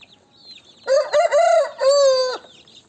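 A rooster crows loudly and close by in two long harmonic calls, with faint clucking of chickens before it on a farm.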